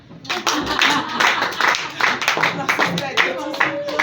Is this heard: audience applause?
yes